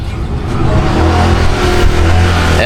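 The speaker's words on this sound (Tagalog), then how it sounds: "Ayan po yung tricycle ni Kuya Damulag, mga ka-business eh." A motorized tricycle engine revving close by in a Filipino street, a loud, steady low rumbling drone with slight rises in pitch, no voices.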